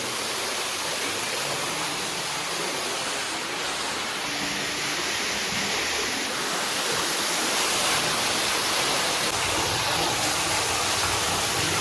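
Water gushes under strong pressure from a newly drilled borewell in a village in Khambhalia taluka, a loud continuous hissing rush that holds steady for the whole stretch, with no voices.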